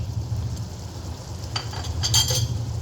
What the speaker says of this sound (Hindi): चने की दाल जो हमने नमक हल्का सा डाल के बॉईल कर ली थी ये डाल देंगे। इसे मिक्स करते हैं हल्के हाथों से।